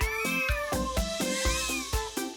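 Newborn cartoon kitten mewing in a steady run of short, high, bright meows, about one every quarter second, clear and alone with no talk.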